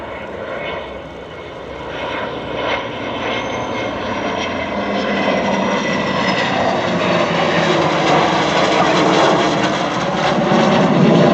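A P-51 Mustang piston fighter passes overhead at the Thunder Over Michigan airshow, its loud engine roar swelling and building steadily across the sky without a break.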